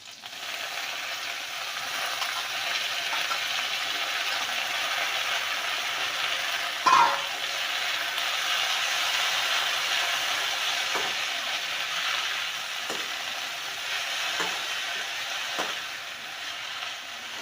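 Mudakathan keerai greens being sautéed in a hot pan, a faint steady sizzle with occasional soft clicks and scrapes of stirring, no voices.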